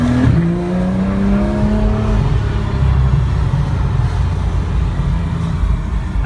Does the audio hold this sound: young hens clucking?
no